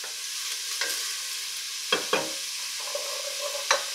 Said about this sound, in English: it's been about 5 minutes of sauteing or sweating or frying up these vegetables